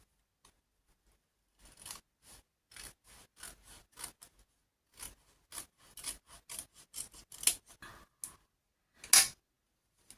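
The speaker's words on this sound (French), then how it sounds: "Là, faut que je le coupe un petit peu parce que ça dépasse." Scissors trim card for a handmade card in a quiet room, making a close run of crisp snipping cuts in uneven bursts, with one louder snip near the end.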